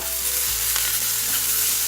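A chapati pizza cooks in a pan over a medium flame, giving a close, steady sizzle and fry with a faint low hum beneath it and no talking.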